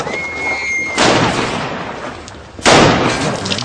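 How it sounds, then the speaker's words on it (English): Two loud, close gunshot blasts ring out in a trailer park about a second and a half apart, each trailing off in a long, noisy decay. "There's all kinds of gunfire and shit going on, man."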